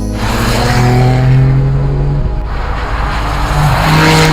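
A Nissan Skyline R32 with its RB26DETT engine roars loud and close, revving hard in a continuous, rising and falling drone with no voices over it.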